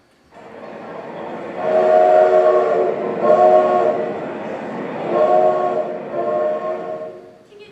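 A train sound effect plays during a school one-act play, a loud sustained horn-like chord rising and falling in several swells over a rumbling base.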